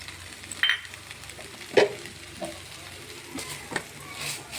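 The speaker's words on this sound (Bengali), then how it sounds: "আবারও একটু মশলাটা কষিয়ে নিচ্ছি" A spice mixture with chopped coriander is fried and stirred in a pan, giving a soft continuous sizzle with intermittent spatula scrapes and a couple of sharper clinks against the pan, close by.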